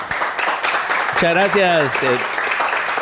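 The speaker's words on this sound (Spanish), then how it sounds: "Un aplauso para Vini, que está aquí con nosotros." Studio audience applause on a Spanish talk show, a steady wash of clapping throughout with someone speaking briefly over it midway.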